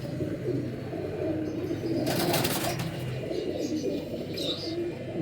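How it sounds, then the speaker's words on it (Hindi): Genuine galba pigeons coo in a low, repeated throbbing murmur, close by, with a short burst of rustling or wing noise midway and a brief chirp near the end. "जेन्युइन गलबा कबूतर"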